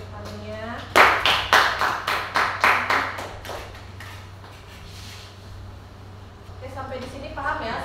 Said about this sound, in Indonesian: Kita beri tepuk tangannya.